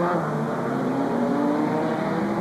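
Race car engine droning steadily during the 6 Horas Peruanas 2004 endurance race, a continuous mid-distance motor hum with faint commentary underneath.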